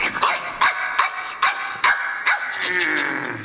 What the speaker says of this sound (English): going crazy, barking and running in circles.